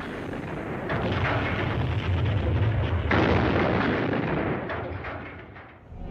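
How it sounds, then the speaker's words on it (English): Cannon bombardment from a citadel, heard as dense, rumbling artillery fire with overlapping booms and blasts that roll on continuously for several seconds before easing off. "ordered the cannons of the citadel to be aimed at Al-Azhar Mosque and anything else near it"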